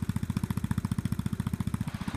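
Panzer lawn tractor with a Briggs and Stratton engine idling in the background: a steady, rapid low chugging putter, moderately faint and unbroken, with no talk over it.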